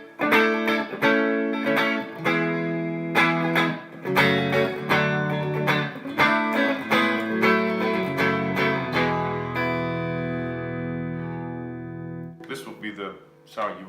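Electric guitar played clean through a Kauffmann Super 6 amp rings out loud and close, strummed chords and single notes with sustained decays, a long held chord fading before a final flurry of strums.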